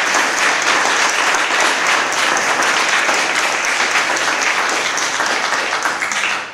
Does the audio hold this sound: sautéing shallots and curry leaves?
no